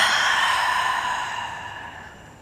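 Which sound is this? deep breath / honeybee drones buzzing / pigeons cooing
deep breath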